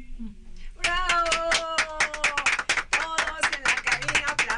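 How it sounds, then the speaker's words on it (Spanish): A small group in a studio booth claps enthusiastically, a quick, dense patter of hands after a brief pause, with voices calling out over it. "Todos en la cabina aplaudiendo esta hermosa voz."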